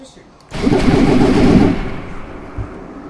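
Gunfire in the voxel shooter game Voxelnauts: a sudden loud burst of rapid shots lasting about a second, then fading into a quieter tail with a single low thump.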